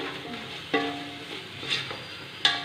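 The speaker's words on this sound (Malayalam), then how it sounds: "നന്നായിട്ടൊന്ന് മിക്സ് ചെയ്ത് കൊടുക്കാം." A spoon stirs a chicken majboos mixture in a pot over low sizzling, with soft scrapes and a few sharp metallic knocks against the side, and no talking.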